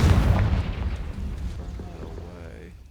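A booming fire-spell blast from Hogwarts Legacy, a loud explosive burst at the start that rumbles and fades away over a few seconds, heard on its own.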